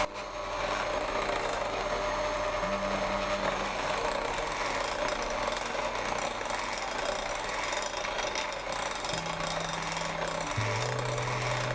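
Electric hand mixer with whisks beating chocolate sponge cake batter, a constant loud motor whir with slight tonal shifts, running without pause and with no talking.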